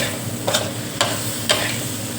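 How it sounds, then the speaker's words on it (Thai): Stir-fried shrimp with bird's eye chili scooped from the pan onto a plate: three sharp spatula scrapes roughly half a second apart, close, over a constant low kitchen hiss. "นี่ตักใส่จานพร้อมเสิร์ฟ"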